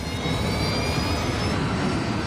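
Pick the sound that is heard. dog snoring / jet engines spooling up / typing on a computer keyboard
jet engines spooling up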